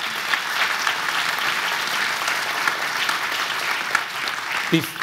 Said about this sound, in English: Just give everybody a round of applause again.